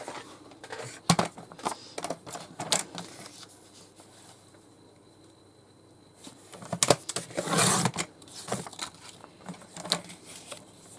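Paper bag being cut into journal tags with scissors, giving a series of short, crisp snips and rustles in irregular bursts, close and moderately loud, with a quieter pause in the middle.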